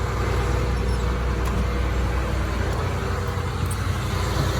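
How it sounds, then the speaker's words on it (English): Route school bus engine idling after a cold start, a steady loud low diesel rumble that holds evenly throughout, nearby with no talking. "This is my route bus."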